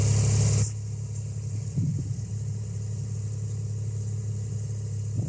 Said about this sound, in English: This is our engine run video.